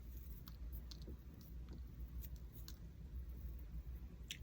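Faint, quick scissor snips trimming paper for a thrift-flip decoupage craft, a scattering of soft cuts over a constant low room hum.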